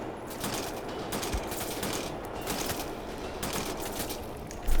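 Rapid bursts of gunfire from the player's weapon in the shooter Wolfenstein: The New Order, clustered volleys of shots with brief gaps, loud and close, no talking.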